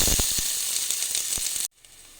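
Onion and turmeric sizzle loudly in hot mustard oil, a dense close hiss with a few sharp crackles that cuts off abruptly near the end, leaving faint quiet; no voices.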